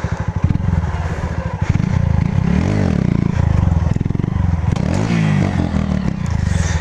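Fan 150 motorcycle revving hard while spinning a donut, a loud close engine drone with rising and falling revs and pulsing throttle bursts, plus some scraping clatter, with no voices.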